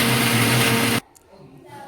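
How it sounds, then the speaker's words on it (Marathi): A kitchen mixer grinder whirs loudly through roasted green chillies and garlic for a coarse chutney, a harsh steady motor roar that cuts off abruptly, leaving near silence with faint rattles. "असं काढून घेऊ आता याला मिक्सरमधून"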